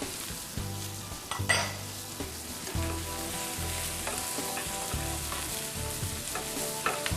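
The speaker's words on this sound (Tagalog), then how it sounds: "Lalagyan na natin ang ating CDO Idol Cheese Dog." CDO Idol Cheese Dog sausages sizzle and fry steadily in a pan for a penne arrabbiata dish, with close, continuous crackling and occasional stirring clatter, no talk.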